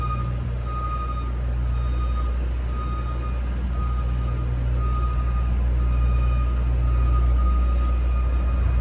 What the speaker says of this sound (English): Hopefully the beeping won't be too loud.